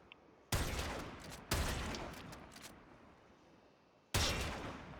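Heavy gunshots from a primed-chamber weapon in a video game boom out one at a time: three loud, sharp blasts with long ringing tails, spaced over several seconds, with no talking.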